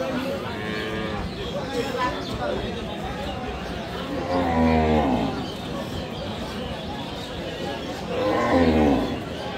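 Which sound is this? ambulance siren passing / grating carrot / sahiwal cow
sahiwal cow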